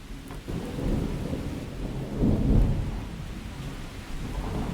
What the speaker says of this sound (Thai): ตอนนี้ฝนตกหนักมากเลยนะครับ